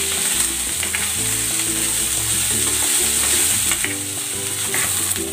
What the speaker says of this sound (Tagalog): Maglalagay ako ng konting cooking oil. Isasangkotsa ko muna itong pork.